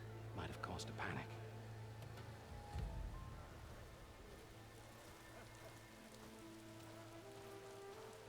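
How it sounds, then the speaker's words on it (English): Light rain in the Horizon Forbidden West video game, a soft, faint patter lying under quiet voices and a low sustained tone. "Little bit rainy."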